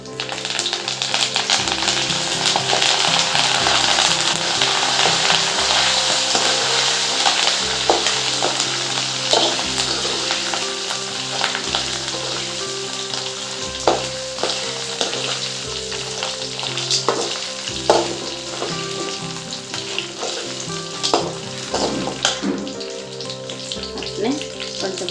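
Curry leaves crackle in an oil tempering for lemon pulihora, a continuous close sizzle with spoon stirring and occasional taps throughout, over background music.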